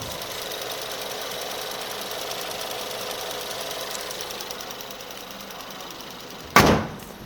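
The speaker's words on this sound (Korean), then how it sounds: "엔진까지 들어보았습니다" A 2017 Lincoln MKC engine idles steadily under an open hood with an even mechanical rattle, close up, ending with a sudden sharp thump.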